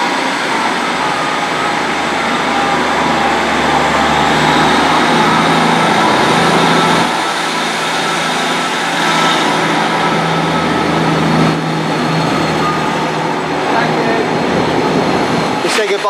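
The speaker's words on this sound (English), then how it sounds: "departing now is going to be the 1722 Great Western Railway service to Paignton from Exmouth here at Exeter Central" A Great Western Railway Class 150 diesel unit, number 150130, pulls out of Exeter Central station on the Exmouth to Paignton service. Its loud, steady engine rumble drones on for many seconds and shifts slightly as it moves off.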